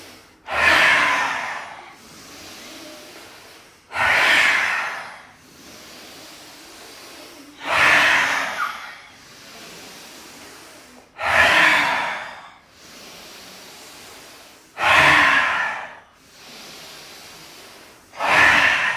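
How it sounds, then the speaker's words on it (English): Deep, slow breaths during a Bhastrika breathing exercise, with five long, loud, evenly spaced inhales drawn close to the microphone and quiet pauses between them. "Slower inhale, bigger."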